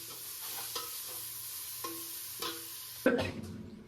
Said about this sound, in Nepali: अनि यसलाई मजाले भुट्छु अब।